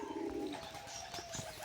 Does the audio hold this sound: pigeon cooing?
yes